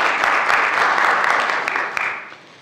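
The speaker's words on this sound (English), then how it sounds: "I think they all deserve a good round of applause." An audience at a lecture on harbor seals gives a dense, steady round of applause that holds evenly, then thins and fades away at the end.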